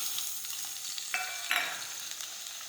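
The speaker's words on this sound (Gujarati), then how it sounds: "હવે આપણે સાતળી લઈશું." Chopped okra sizzles in a pan with mustard seeds, cumin and tomato, a steady close hiss of frying broken by a few scraping stirs.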